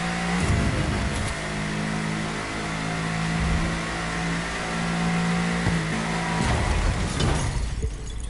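A hypercar engine in the video game The Crew 2 drones at a high pitch and then revs hard, with bursts of rising roar, loud and close throughout.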